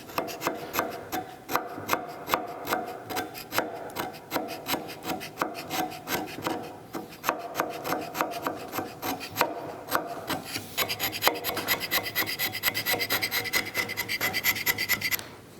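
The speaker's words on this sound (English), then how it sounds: "we're going to get in here and start scraping" A hand scraper works the cast iron dovetail of a Monarch lathe cross slide, with repeated short, rasping strokes in a steady rhythm, close and alone, no talking.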